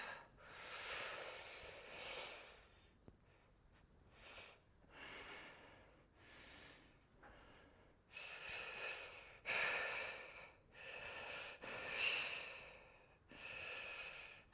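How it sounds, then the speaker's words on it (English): Controlled exercise breathing during a workout circuit, each inhale drawn narrowly as if sucking through a straw: a series of close, breathy hissing breaths in a steady rhythm, some sharper and snorting, with no talk over them. "when I breathe in, I'm sucking through a straw, trying to get the middle abs to work a little bit more"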